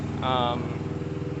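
A lease semi truck's engine idles with a low, steady pulsing throb, and a voice speaks briefly over it near the start.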